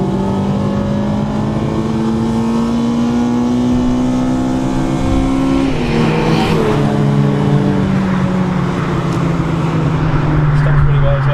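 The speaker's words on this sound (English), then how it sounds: "there's like an audible change in the way the car revs about now" A Honda Integra DC5 Type R engine revs up hard through VTEC from inside the car, a loud steady climbing drone that shifts character partway through, then drops in pitch and carries on.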